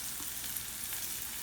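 Chopped onions frying in hot oil in a pan for Coimbatore-style prawn thokku, a steady close sizzle with no talking.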